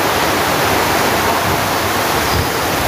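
Heavy rain pours down steadily and loudly beside an outdoor court, a dense unbroken hiss with gusting wind and no voices, sustained at even intensity throughout.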